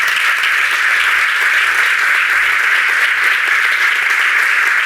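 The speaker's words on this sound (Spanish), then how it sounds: "Así que un fortísimo aplauso." Sustained applause from a live audience at a cultural tribute event, steady and dense clapping throughout with no voices standing out.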